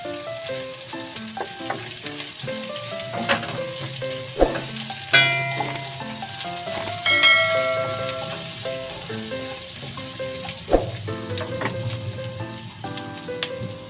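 Two small onions frying in hot cooking oil for chilli chicken in BBQ sauce, sizzling steadily under clinking, ratchety utensil and kitchen noises, with no talking.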